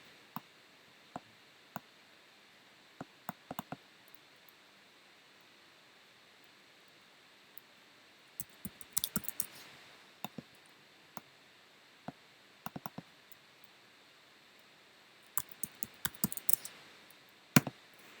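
Scattered clicks and bursts of computer keyboard typing during an online lesson, quiet and close, with irregular single taps and quick clusters of keystrokes over faint background hiss.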